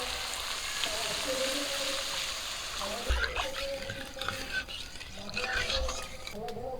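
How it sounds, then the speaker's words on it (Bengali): Water poured into fried masala in a pan for a hilsa fish curry, giving a sputtering hiss and splashing trickle, then gentle stirring and bubbling. "রস করার জন্য জল দিয়ে দিচ্ছি"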